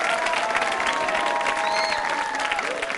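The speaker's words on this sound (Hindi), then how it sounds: "गोईशा के लिए तालियां जोरों से बजाइए" An audience at a quiz show breaks into loud, sustained applause for a contestant, a dense unbroken wash of clapping with faint voices mixed in.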